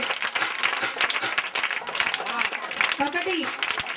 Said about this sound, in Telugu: మీరందరూ చప్పట్లు ఆపకుండా కొట్టండి